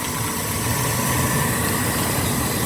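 A small mini motor pump runs steadily beside a fishpond in the countryside, its continuous mechanical hum and faint vibration filling the whole stretch without pause, fairly close and unaccompanied by talk.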